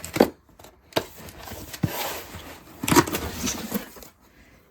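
Cardboard box for a Huano HNDS7 dual desktop monitor arm being opened, with scattered close scrapes, flap thumps and rustles, louder clatter midway, and no talking.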